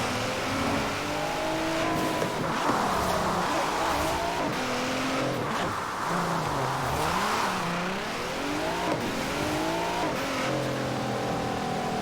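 A car in the racing game Forza Horizon 4 turns hard with a sustained engine drone and rising, falling revs as its tyres squeal through the bends, steady and close with no talking.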